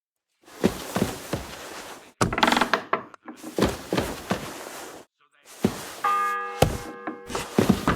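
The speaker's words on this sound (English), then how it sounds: "The first bell. Another 11 to go." A church bell tolling in the medieval video game Kingdom Come Deliverance 2, several heavy resonant strikes with ringing tails separated by short gaps, close and loud, mixed with thuds.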